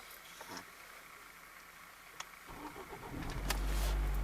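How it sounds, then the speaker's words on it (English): A Ford Focus engine cranks and starts after a quiet wait, catching with a rising rumble that settles into a steady idle, heard close. "Once you wait 10 seconds, you want to turn on the car."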